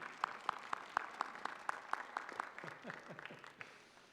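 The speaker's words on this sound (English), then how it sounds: "Graduates, please join me in applauding your family and friends" Graduates at a university physics commencement applaud their families and friends, giving a fairly faint, sustained patter of clapping with a few sharper claps standing out.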